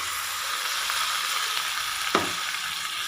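Chicken, 500 grams of washed pieces, sizzling steadily in a hot pan for a chicken roast, with a single stirring scrape partway through, close and alone without talk.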